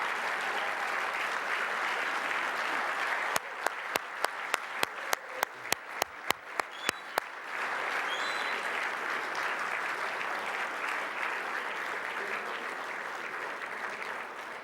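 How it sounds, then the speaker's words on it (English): Audience at an athletics Hall of Fame ceremony applauding the inductees, a full, steady round of clapping that holds for the whole stretch, with a run of sharp, evenly spaced knocks near the middle. "Will you please give them all a big round of applause?"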